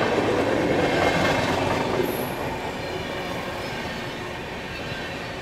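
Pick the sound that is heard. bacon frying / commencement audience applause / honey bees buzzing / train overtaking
train overtaking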